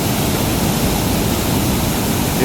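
A riverside stretch of water swollen after rain, heard as a dense, constant loud rushing roar of flowing water with no breaks and no talk.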